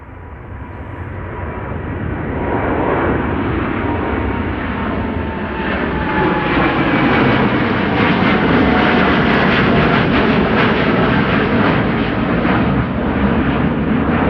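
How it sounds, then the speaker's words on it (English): A KLM Boeing 787-10 Dreamliner departs Amsterdam Schiphol for Calgary, its jet engines building into a loud, sustained roar that stays powerful and close throughout. "Here is the Dreamliner to Calgary. KLM flight 677. Another one of the 787-10s."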